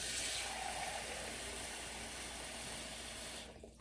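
Water poured a little at a time from a tap or container into a flour mixture for dough, a steady hissing splash that runs continuously and then cuts off near the end.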